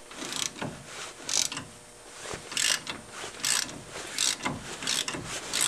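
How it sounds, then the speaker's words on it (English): Gear puller working a wheel bearing shaft free on a 1999 Chevy S-10 4x4, heard as a rhythmic series of ratcheting metallic clicks and creaks repeating about once a second, close and moderately loud with no talking. "To do that, we're going to use a gear puller."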